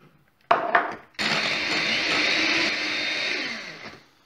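An electric mixer whirs loudly, starting with two short bursts before running steadily, as it beats savarina batter with ricotta. The motor hum is near and continuous, with no talking.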